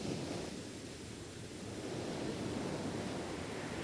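Surf breaking along a North Carolina beach gives a continuous, moderately loud wash with no gaps. A broad roar of churning water runs under steady wind hiss, and no voices are heard.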